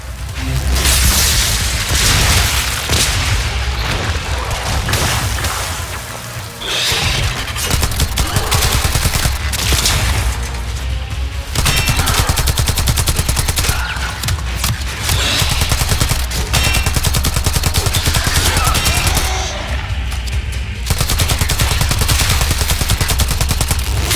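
Dense, loud weapon fire rattles almost without pause through a firefight in the video game Warframe, with rapid bursts, booming impacts and explosions layered over one another and only brief dips in intensity.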